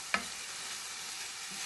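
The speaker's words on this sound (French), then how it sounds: "je vais bien faire revenir mes aubergines" Aubergines frying with onion and two garlic cloves in a pan, giving a steady broadband sizzle after one brief stirring clatter at the start, close and continuous.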